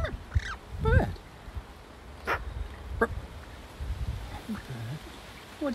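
Bird calling loudly outdoors on a breezy day, several sharp, raspy, crow-like caws spaced irregularly over wind noise, fairly close.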